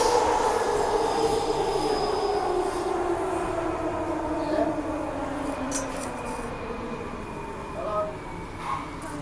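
A Transperth A-Type electric train pulls into Subiaco station, with rolling wheel rumble, a rising motor whine and faint brake squeal as it slows. Voices are heard quietly underneath.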